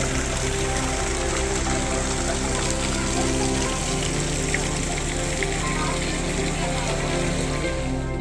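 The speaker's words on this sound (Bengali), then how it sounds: "এখানে এই চতুর্দিক থেকে অজস্র ধারায় জল ঝরে পড়ে" Water tumbles down in many streams at Sahastradhara near Dehradun, a steady broadband rush with a low droning hum underneath, continuous and unchanging throughout.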